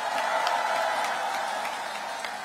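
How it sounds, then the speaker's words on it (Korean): An audience applauds at a political rally in Paju, South Korea, giving steady, dense clapping from a crowd that eases off slightly toward the end. "박수 한번 쳐주세요"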